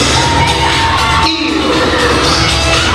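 Basketball fans in a gym cheering for the Clay City Eagles, a loud continuous roar of yelling and whooping crowd noise throughout, with a brief dip near the middle.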